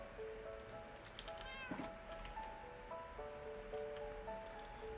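A single cat meow from Minecraft rises briefly over a steady bed of soft background music and a washing, surf-like ambience. The meow is moderately clear rather than loud, and no one speaks.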